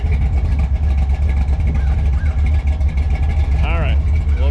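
A 1955 Chevy V8 runs and revs hard at close range, with a deep, throbbing rumble and a rising rev toward the end. A voice speaks briefly over the engine.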